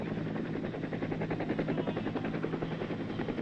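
A military helicopter from the Vietnam War era flies with a steady, continuous rotor thump and engine roar, loud and unbroken throughout.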